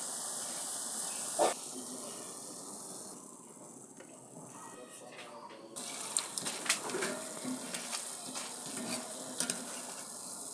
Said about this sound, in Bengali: তো এইভাবে আমার সবগুলো বুন্দিয়া ভাজা হয়ে গেল